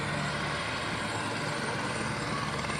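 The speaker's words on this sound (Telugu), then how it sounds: "ఆ హెలికాప్టర్ ఏంటో తెలుసా, గుర్తుపట్టండి." Helicopter used in the film Game Changer, brought to Araku Valley for joyrides, a steady whirring rotor and engine drone heard throughout at moderate distance, with no voices.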